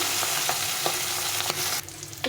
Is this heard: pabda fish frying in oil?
yes